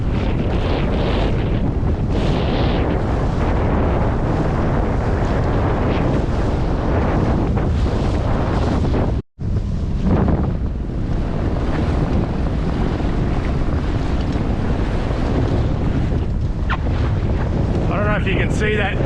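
Strong gusting wind buffets a 16-foot trailer sailer out on the water in roughly 15 to 20 knot gusts, a loud continuous roar of wind noise with wave wash, dropping out for a split second midway.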